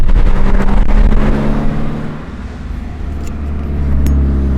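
A 2015 Subaru WRX with an APR intake drives along a road, its engine a loud steady rumble that dips slightly mid-way, then swells again as the car pulls on.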